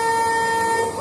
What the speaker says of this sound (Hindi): गाड़ी का हॉर्न देख रहे हो?